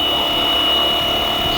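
A Flywing Bell 206 miniature scale RC helicopter hovers down to land on its maiden flight, a steady loud whine of motor and rotor holding level and close throughout.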